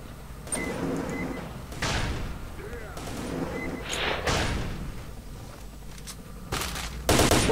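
Gunfire in the S.T.A.L.K.E.R. video game, shooting at a zombie: several sharp shots crack out at irregular intervals over a busy game soundscape, with a voice briefly audible.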